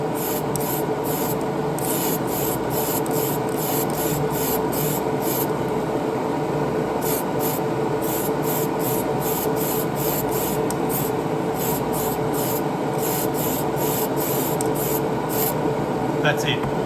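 Spray primer from a rattle can hisses continuously onto the roof of a model car, a loud, close, unbroken spray held throughout with faint pulsing as the can sweeps back and forth.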